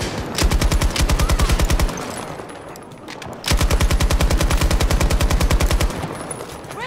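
Automatic gunfire in the video game Battlefield 2042: two long, rapid, evenly rhythmic bursts, loud and close, separated by a short pause with faint background battle noise.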